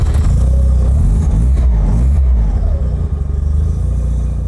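A rotary engine with an extended port idling, its exhaust note a steady, loud, low burble with a slightly lumpy, barking edge throughout.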